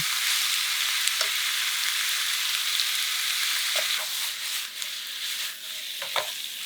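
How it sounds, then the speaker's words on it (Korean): Pork belly sizzles and fries in a pan for a sukiyaki rice bowl, a steady close crackle with a few soft stirring clicks and scrapes over it. "갈색빛이 난다 싶으면 한쪽으로 치워준 후 고기를 넣어주자."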